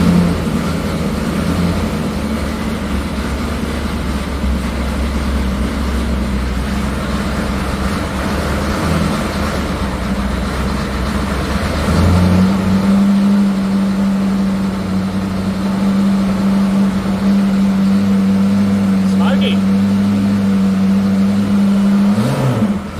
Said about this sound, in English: See if she wants to rev up a bit that night.